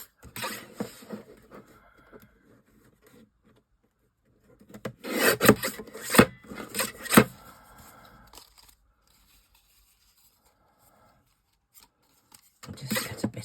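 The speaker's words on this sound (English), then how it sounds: "Where's my trimmer? Just cut it down just a little bit so that it fits behind." A paper trimmer slices through card for a handmade spinner card, giving rasping, scraping strokes in a couple of close bursts separated by quiet, with softer handling noises around them.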